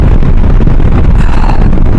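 Strong cold wind blasts straight into the microphone during a motorbike ride on the mountain road from Drass to Kargil, a loud, continuous, buffeting roar with no breaks.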